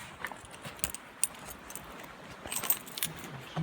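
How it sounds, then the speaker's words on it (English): Keys jangle in a pocket with soft, irregular metallic clinks and rustles, quiet and close, scattered over a few seconds. "Keys in my pocket."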